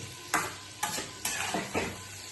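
Potatoes fry in a pan with a continuous sizzle, broken by four evenly spaced scraping stirs of a spatula, close and clear.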